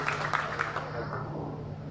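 An audience at a speech event at the Al Hasan pesantren in Ciamis applauds a party deputy chairman, with steady clapping lasting about two seconds alongside faint voices.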